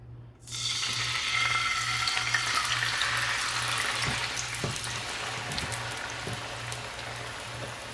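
Diced tomatoes, fresh and canned, hit a hot pan for huevos rancheros, bursting into a sudden loud, steady sizzle that holds close and dense, with a few soft stirring knocks and no talking.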